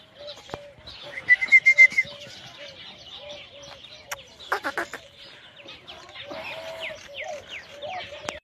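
Chickens cluck and chirp nearby in short repeated calls, with a steady rhythmic peeping underneath and a few louder bursts in between.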